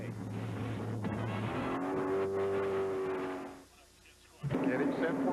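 Stock car engines at Daytona International Speedway revving before a qualifying race start, a loud roar with shifting tones and downshifts that dips briefly then surges again, under a broadcast commentator talking.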